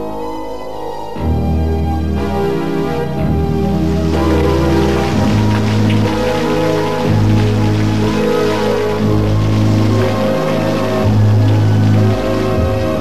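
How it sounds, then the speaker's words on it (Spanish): A heavy cartoon downpour fills the scene as a dense, steady wash of rain noise mixed with loud music, starting abruptly after a second and holding loud throughout with no talking. "¡Qué forma de llover, es un diluvio."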